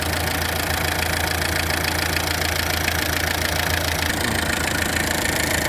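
A 2003 Tata Indica DLS diesel engine runs steadily at idle, a loud, close, even clatter with a rhythmic knocking throb throughout and no voices.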